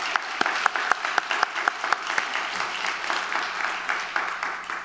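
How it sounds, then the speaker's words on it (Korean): A church congregation claps together in a brisk, even rhythm during a dawn prayer service, sharp hand claps over a wash of scattered applause, sustained for several seconds. "우리 성도 여러분께서 함께 심찬 격려의 박수를 해주시면 감사하겠습니다"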